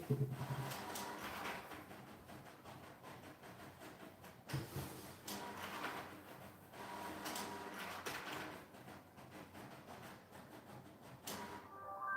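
An office printer running through a print job, a steady mechanical whirring with rhythmic bursts of feed and roller noise and a couple of sharp clunks, fairly close and continuous for several seconds with no talking.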